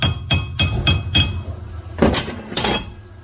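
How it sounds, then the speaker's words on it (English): A hammer taps a Dodge connecting rod: about five sharp metallic strikes in an even rhythm, then a pause and three more ringing taps, close and clear in a quiet room. "Now I have this hammer, and we're going to just tap on this."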